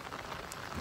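Steady rain falls outdoors during a fishing trip, a brief, even hiss of drops on surfaces with no voices.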